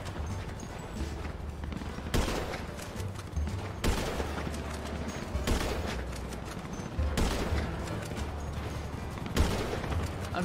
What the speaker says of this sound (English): I'm trying to shoot Carson